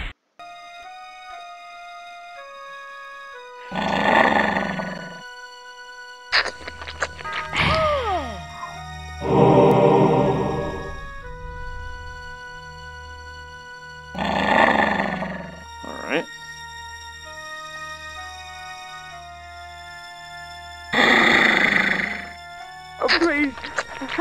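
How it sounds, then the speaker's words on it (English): In the Blood Omen: Legacy of Kain video game, a wolf transformation brings four loud, drawn-out roaring growls spaced several seconds apart, along with sharp whooshing and thwacking effects over a low rhythmic game backdrop. "Let's turn into a wolf."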